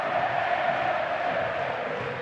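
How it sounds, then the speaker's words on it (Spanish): Large football stadium crowd at a Newell's Old Boys versus Boca Juniors league match rises in a sustained, loud, steady ovation, a dense roar of cheering and shouting with no gaps or pauses. "¿Escuchan la ovación?"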